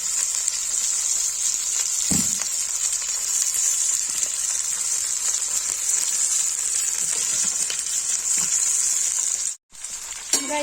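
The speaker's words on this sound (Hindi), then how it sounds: "गाइस को फ्राई पूरा ऐसे चला देंगे" Slices of lotus stem (nadru) fry in hot oil, giving a steady, bright sizzle that runs continuously for several seconds, with a few faint stirring clinks and one brief dropout near the end.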